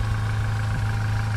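A high-mileage old VW Polo engine idles steadily nearby, a low, even mechanical hum with a faint higher whine, no voices over it.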